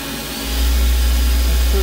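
A Hardinge GT 27SP super-precision CNC gang tool lathe spindle spins at about 3,000 RPM, heard from a few inches away as a steady, loud, even whirring hum that swells up early and then holds.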